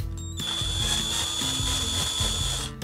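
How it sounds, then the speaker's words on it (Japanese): A power drill whines at a steady high pitch for a couple of seconds, close by, with a grinding rattle underneath as it bores a hole for an acrylic rod. "これにねアクリル棒が入るさ穴をねドリルで開ける。"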